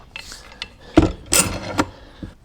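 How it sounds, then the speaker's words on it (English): Clamps being tightened on a wooden furniture panel for a DIY buffet, a few short scraping and ratcheting bursts, close and separated by brief pauses. "And then we always clamp from both sides"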